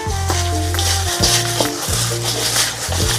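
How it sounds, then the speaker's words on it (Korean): Korean radish salad is mixed by hand with sesame oil, giving wet squishing and rubbing sounds in short repeated bursts, close-up, with a steady background hum and no talking. "참기름 뿌리고요. 다시 이렇게 조물조물 하면 돼요."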